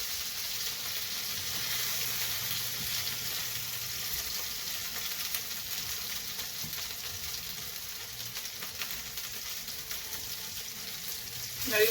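German sour cream noodles fry in hot grease in a pan, giving a steady, soft bubbling sizzle that carries on throughout, with a faint clatter right at the end.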